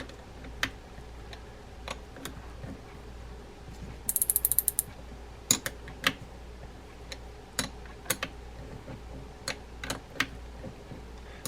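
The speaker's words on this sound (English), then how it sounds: "11 millimeter nut next. I'm going to tighten that down." An 11 millimeter nut is tightened down while reassembling a Shimano Trinidad 30A saltwater trolling reel: quiet ratcheting clicks and small metallic ticks, with a short rapid burst of clicking, close up over a low background hum.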